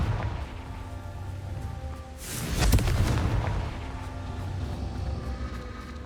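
Confringo spell explosion in Hogwarts Legacy, a single booming blast that swells midway and rumbles off over a background of ambient game sound.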